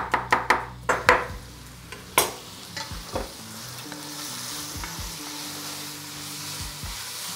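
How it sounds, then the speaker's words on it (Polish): Meat searing in a hot pan for a rustic stew, opening with several sharp knocks of a utensil, then a close, even sizzle with occasional scrapes and clacks, no talking. "Mięso się obsmaża"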